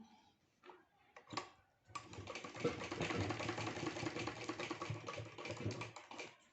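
A sewing machine runs steadily, stitching lace onto the neckline of a garment, after a few short starts and stops; the motor's whirring rattle carries on close and continuous for several seconds with no talking.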